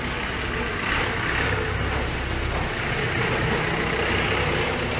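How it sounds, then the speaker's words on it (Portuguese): A tractor rumbles past on a road outside a house window, a loud steady engine drone filling the whole stretch without a clear start or end. "Esperar o bendito do trator passar."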